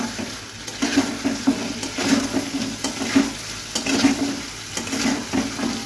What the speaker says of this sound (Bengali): এভাবে একটু নেড়ে চেড়ে তারপর একটু ঢেকে দেবো।